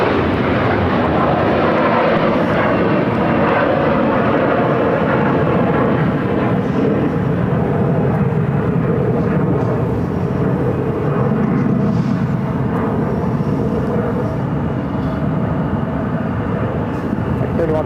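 An airliner rolling for takeoff at Phoenix airport gives a continuous, loud, broadband engine roar that holds steady for the whole stretch without a break.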